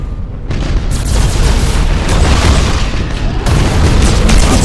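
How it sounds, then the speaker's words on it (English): Heavy warship broadside cannon fire in the space strategy game Battlefleet Gothic Armada: a dense, sustained roar of booming blasts rolling continuously and loudly, surging again after a brief dip. "Continue full broadsides."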